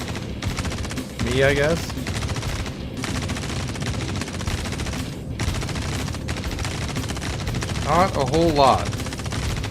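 Star Citizen or DCS game gunfire crackles continuously through the clip, with denser automatic bursts near the start and again near the end, while someone talks over it.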